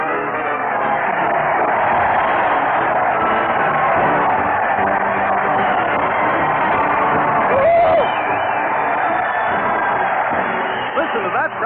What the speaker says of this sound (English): Listen to that crowd cheer.